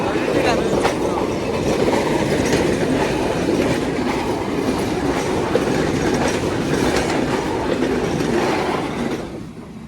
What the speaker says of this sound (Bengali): এই দেখতে পাচ্ছেন ট্রেনটা আসতেছে এমন খুব গতিতে